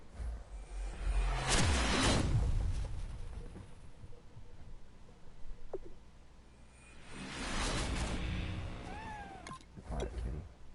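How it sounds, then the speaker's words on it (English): A cat meows several times, a couple of loud bursts near the start and again toward the end, with a few sliding high cries between them. "Quiet, kitty."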